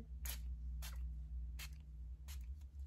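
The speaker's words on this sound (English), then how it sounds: "now I'm just gonna go in with a little bit of setting spray" Four short, soft spritzes from a bottle of Hard Candy mattifying makeup setting spray, evenly spaced over a quiet background hum.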